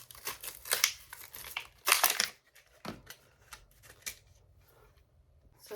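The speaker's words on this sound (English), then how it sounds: "And then you can cut this circle out with your X-Acto knife." An X-Acto knife cutting a paper circle out for a graduation cap gives a run of scratchy, crinkly strokes in short bursts with pauses between them, close and fairly quiet.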